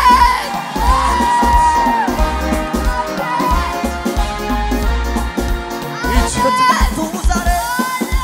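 A church congregation ululating and clapping in praise during a worship service, a loud crowd roar of trilling voices and cheers blended with music and tonal singing throughout.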